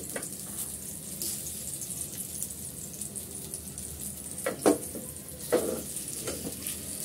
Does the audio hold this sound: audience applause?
no